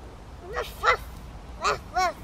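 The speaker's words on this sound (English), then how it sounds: "That's your doggy?" A dog gives four short, yappy barks spaced across about two seconds, moderately close and fairly quiet over a faint background hiss.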